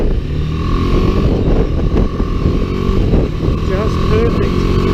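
A BMW G310GS motorcycle cruises at 100 km/h around 5,500 RPM, giving a steady loud engine drone mixed with rushing wind buffeting, close to the rider, with no talk.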